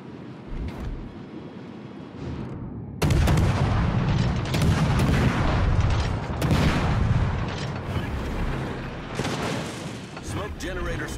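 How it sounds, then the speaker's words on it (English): Naval guns firing in a sea battle game, with heavy booming salvos among wind and surf noise, one very loud volley and then more explosions, while voices talk over it. "All stations, concentrate fire on the target."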